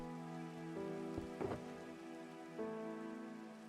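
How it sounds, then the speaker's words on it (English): Rain falls in Minecraft as a soft, steady patter behind sustained game music tones, with a couple of brief thuds partway through and no voices. "It's halfway through the Minecraft day, so I'll be able to go to sleep soon and get rid of that rain."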